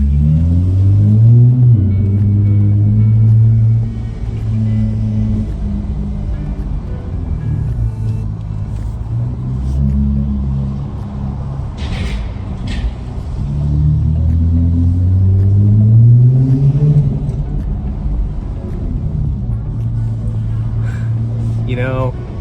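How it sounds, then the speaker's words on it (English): An Acura MDX Type S with an aftermarket exhaust drives through a parking garage, its deep rumble swelling and falling as it accelerates in the echoing space, with talking over it. "having an exhaust on a vehicle going through a parking garage never gets old"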